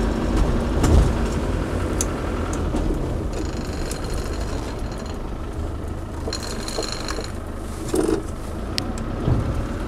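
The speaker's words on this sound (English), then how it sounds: "Proper Defender 200 TDI, so best engine they ever did basically. Starts on the button, there's no hesitancy," A Land Rover Defender 90 with a 200TDi diesel engine runs at a steady idle, a continuous rough mechanical rumble with some faint clicks and clatter on top.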